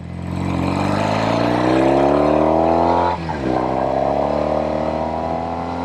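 A 1973 Norton Commando 850 vintage British motorcycle accelerates hard and close by, its loud engine note climbing steadily, dipping briefly at a gear change, then rising again.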